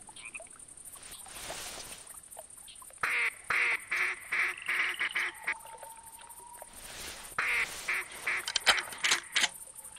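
A flock of mallard ducks quacks in the hunting game TheHunter, with repeated bursts of calls coming in clear, fairly near pulses over a steady background ambience.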